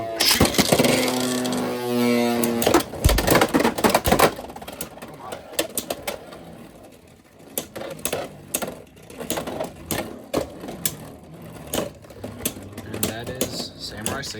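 Beyblade X spinning tops, including a Pegasus Blast, rip off their launchers into a plastic stadium after a spoken countdown, then clatter and clack in rapid collisions, close and loud, with a voice calling the launch.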